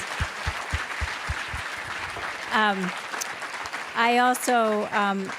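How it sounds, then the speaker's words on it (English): Audience applause at an evening book event for a New York Times columnist: dense, steady clapping fills the first few seconds, then a voice begins speaking as the clapping continues beneath it. "Let's give them another round of applause."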